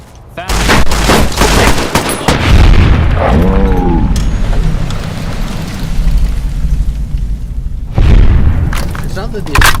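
Loud, dense video game gunfire, booming shots in rapid bursts that run almost without pause, with someone talking over parts of it.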